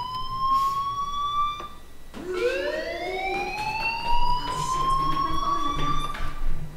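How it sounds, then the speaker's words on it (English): Fire alarm ringing in Life Is Strange, a steady electronic tone that cuts out briefly and then returns, rising and holding loud and close over a low background hum. "do you hear that fire alarm?"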